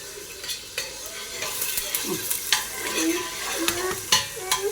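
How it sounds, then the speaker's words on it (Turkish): An egg fries in a pan with a soft sizzle, under intermittent sharp clinks and scrapes of a utensil against the pan, quiet and close. "Yumurtamızı pişirelim."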